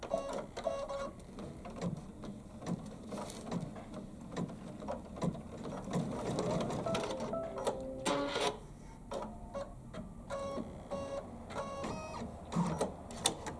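A computerized embroidery machine stitches white thread into white fabric, giving a rapid, rhythmic mechanical clatter with ticking and whirring that runs steadily throughout at moderate loudness, close by and with no voices.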